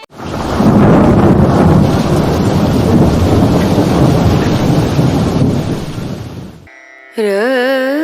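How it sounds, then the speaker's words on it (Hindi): Heavy rain pours in a dense, loud, continuous roar with thunder rumbling beneath it, ending abruptly as a voice starts speaking. "माँ जी, बाहर बहुत तेज बारिश हो रही है"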